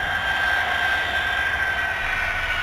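Avro Vulcan XH558 bomber aircraft roaring steadily with a loud, continuous jet engine drone and a piercing high whine, sustained throughout without a break.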